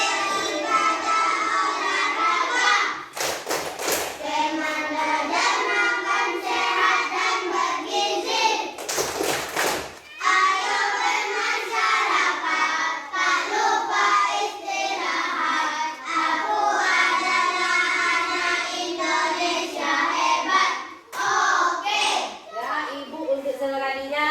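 Fourth-grade students in an Indonesian classroom perform a rhythmic clap chant, with children's voices chanting together in unison. Sharp bursts of group clapping break in at a few points.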